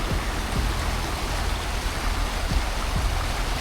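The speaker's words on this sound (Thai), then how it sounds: "เนี่ยน้ำมันไหลออกมาแล้วก็จะมา เป็นแอ่งตรงนี้แล้วน่าจะแบบไหลไปทางนู้นอีกนะ" A stream pours into a small pool, a steady rain-like hiss of flowing water, loud and close, heard alone.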